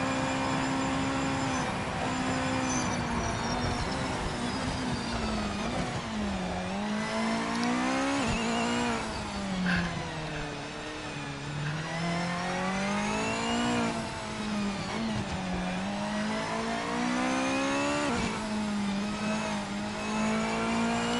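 A Japanese GT500 race car laps Mid-Ohio in a racing game, its engine note holding loud and steady, then sweeping down and back up through gear changes and corners across the whole stretch.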